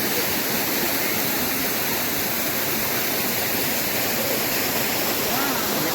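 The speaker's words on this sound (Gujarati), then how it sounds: "આ જે ધોધ પડે ને મેન" The waterfall at Osam hill near Patanvav pours in a dense, steady roar, a constant broadband rush of falling water with no breaks, heard close and loud throughout.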